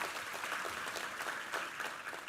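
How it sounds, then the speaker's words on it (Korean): A church congregation at a Sunday service claps together in a continuous, even round of applause, moderately loud and slightly distant, with no talking over it. "우리 하나님께 감사의 영광의 박수를 올려드리겠습니다."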